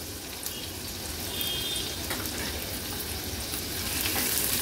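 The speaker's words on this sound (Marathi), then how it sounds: "तेलावर लसूण आपण थोडासा परतून घ्यायचंय।" Garlic and finely chopped onion frying in hot oil, a steady, close, even sizzle that holds at moderate loudness throughout with no voices.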